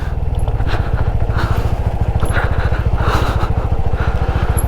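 A motorcycle engine runs steadily at a low, pulsing idle at close range on a road beside the Ganga, where the route ends on the way between Tehri and Rishikesh, holding a constant level for the whole stretch.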